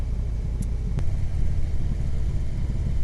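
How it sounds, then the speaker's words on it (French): Harley-Davidson Road motorcycle engine rumbling steadily while riding on an Alpine road near Bourg-Saint-Maurice, a low constant drone heard close and alone without talk. "toujours aussi agréable de rouler en bécane"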